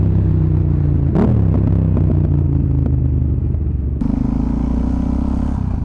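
A Yamaha MT-07 motorcycle engine idles loudly and steadily up close, with a brief rev partway through and a deeper, shifted drone toward the end.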